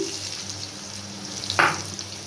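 Potatoes fry in a pan for a Bengali fish curry with taro, giving a low, steady sizzle. A short, sharp burst of louder hiss rises near the end.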